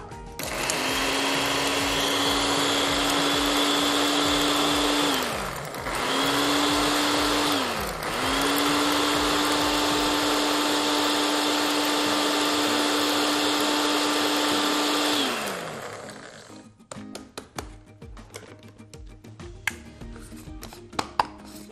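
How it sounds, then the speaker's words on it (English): A blender grinds cannabis shake into fine flour in three loud bursts, with short pauses between them, then stops and gives way to faint clatter and handling noises. "we're going to pulse this into a very fine flour"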